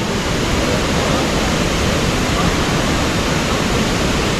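Kawasan Falls in southern Cebu roars steadily, a dense, unbroken wash of rushing water close by, loud and constant with no pauses.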